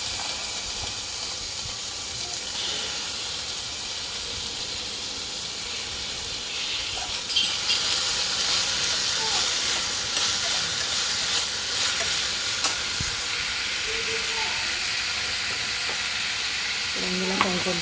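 Tomato pieces sizzle and fry in a pan for Rayalaseema-style upma, with a steady hiss broken by occasional stirring scrapes, close and continuous throughout.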